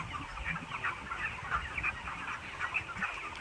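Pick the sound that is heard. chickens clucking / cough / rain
chickens clucking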